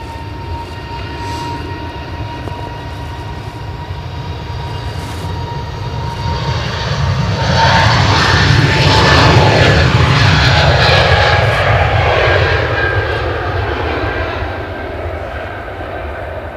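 A British Airways jet departs Edinburgh airport, its engine roar swelling from a steady distant rumble to a loud broad peak midway, then easing off as it climbs away.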